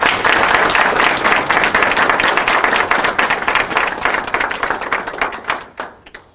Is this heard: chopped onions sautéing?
no